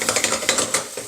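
Apples cooking in butter in a frying pan give a quick run of scraping, clattering stirring strokes over a light sizzle, close and steady, with no talking.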